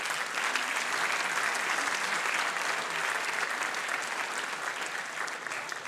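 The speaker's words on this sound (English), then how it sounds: "So a round of applause to all of you that have brought this content." Sustained audience applause at an entrepreneurship demo day event, steady and dense with many hands clapping throughout, moderately distant and even in level.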